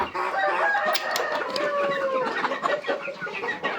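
A rooster crows nearby, its rising call ringing out over a busy background of clucking hens and other farmyard birds.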